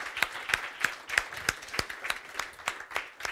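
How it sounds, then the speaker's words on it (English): Scattered, light applause from a modest audience at the close of a two-day MobilePay conference, individual claps distinct and irregular, roughly three per second, moderately near. "Strong applause,"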